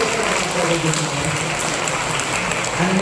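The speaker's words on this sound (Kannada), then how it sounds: "ದೊಡ್ಡ ಚಪ್ಪಾಳೆ ಹಾಕಿ" Applause at a Kannada film premiere show, a dense, steady roar of clapping from a crowd that fills the whole stretch evenly, with voices faintly mixed in.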